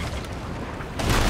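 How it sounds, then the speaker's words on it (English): Cannon fire in the Sea of Thieves pirate ship game, heard as a continuous rumbling boom that swells louder near the end of the short burst, with no talk over it. "I don't know where these cannons are going."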